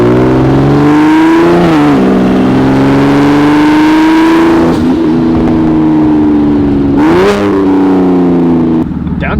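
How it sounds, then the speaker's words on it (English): Single-turbo BMW 335i with a hood-exit exhaust revving hard, loud close engine climbing in pitch, then dropping on crisp downshifts with rev spikes between gears. "Downshifts are crispy."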